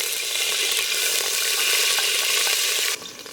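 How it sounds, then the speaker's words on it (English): Curd hits hot oil in a pan while cooking Ambur chicken biryani, giving a loud, steady, close sizzling hiss that suddenly drops to a quieter fizz near the end; no one speaks. "Okay, so you add a little bit of curd to the oil."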